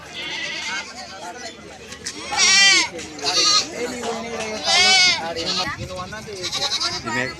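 Several native goats bleat loudly and repeatedly amid a busy crowd at the Keshampet livestock market, with people talking throughout in the background.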